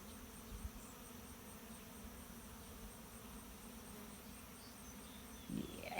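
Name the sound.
honeybees buzzing around hive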